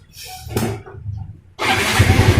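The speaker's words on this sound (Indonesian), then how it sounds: "Coba tolong di starter mas" Yamaha Mio 125 scooter being started, a short cranking burst followed by the engine catching into a steady close running idle.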